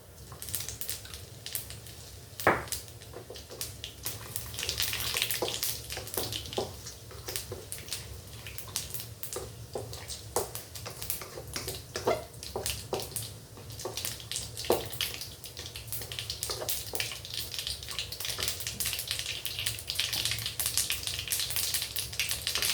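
Mustard seeds, fennel and cumin frying in hot oil for a radish curry, crackling with a faint, dense sizzle and scattered sharp pops throughout, close and quiet, with no talking.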